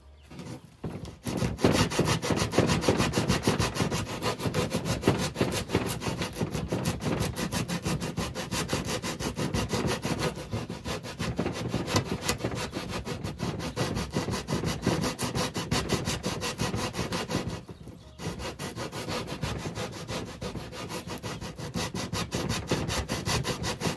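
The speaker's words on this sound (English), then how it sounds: "I just take a regular metal file and I wrap some sandpaper around it" A regular metal file wrapped in sandpaper rubs back and forth to smooth a drilled hole for a 12V USB charging port in a DIY camper van, giving steady, close, continuous rasping strokes with one short pause.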